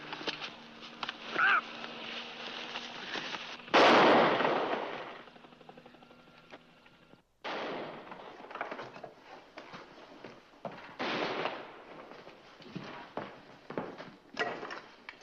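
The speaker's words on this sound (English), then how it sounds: "Just heard gunshots. 3 of them." Three gunshots go off one after another, spaced a few seconds apart, each a sharp loud crack fading into an echoing tail over a quiet outdoor background.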